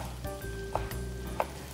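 Chicken grilling in a pan, partly cooked and just flipped, gives a steady close sizzle and crackle with two brief sharper clicks, no voices.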